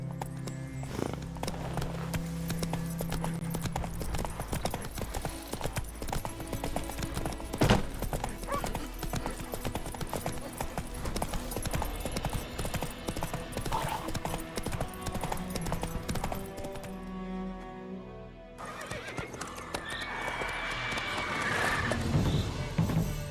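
Roach, the horse in The Witcher 3, gallops hard in a steady, loud clip-clop under a dense game soundscape, with a whinny and a shift in the surroundings near the end.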